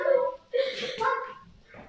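Dogs give a couple of short, close barks and yips in a home fitness session, with brief gaps between them and a whimpering tone at the end.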